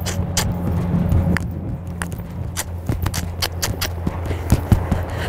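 Horse hooves strike the ground in an uneven series of sharp thuds during canter pirouette work, over a steady low hum, with no talk.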